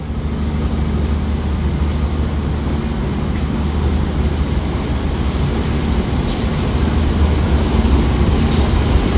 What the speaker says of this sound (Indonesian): kita lihat yuk lokomotif dinas untuk kereta api Bogowonto, yakni menggunakan CC 203 9802 Depo Induk Jember